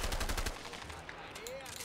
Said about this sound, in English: We finally got to like actual like big gun combat.